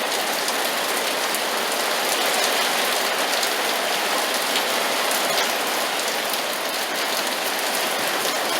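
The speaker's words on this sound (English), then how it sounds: "So this is it. It's raining. It never rains in Vegas." Steady, heavy rain in Las Vegas pours down on a hard surface nearby, a constant hiss of drops with no pauses or voices.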